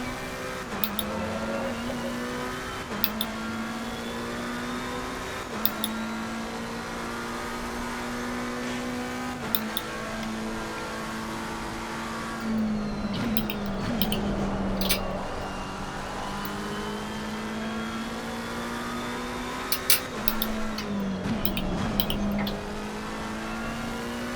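Race car engine in Assetto Corsa Competizione, a steady high-pitched drone that drops and rises through repeated gear changes as the car slows for corners and accelerates away, close and continuous with no talking.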